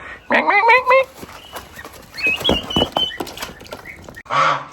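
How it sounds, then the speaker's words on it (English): A young hen gives a few rising, squeaky chirping calls, followed by scattered rustling and a short harsher burst at the end. "She sounds like a hen, looks like a hen"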